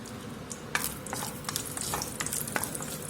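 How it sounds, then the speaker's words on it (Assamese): Chopped cashews fry in hot ghee for an Assamese sweet, a close, continuous sizzle broken by sharp crackles and scraping stirs that come every half second or so, with no talking. "এতিয়া এয়া কাজুখিনি অলপ ভাজি ল'ম।"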